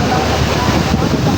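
Rough open sea churns around a small fishing boat, a loud, broad wash of water and wind rumble that stays constant through the short stretch.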